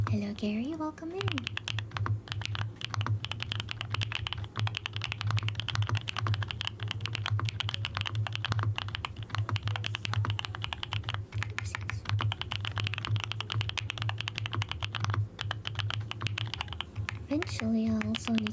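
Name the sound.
typing on mechanical computer keyboard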